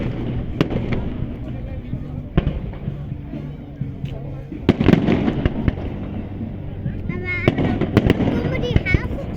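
A fireworks display at the Harlingen fishing days festival crackles and booms with repeated sharp bursts and rumbling explosions, while spectators chat throughout.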